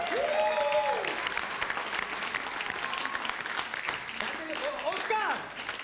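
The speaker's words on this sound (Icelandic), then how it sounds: "Má ég heyra fagnaðarlæti?" Audience applause and cheering at a Red Nose Day charity event, a broad wash of clapping that runs under a voice talking and a couple of brief sung or cheered tones near the start and end.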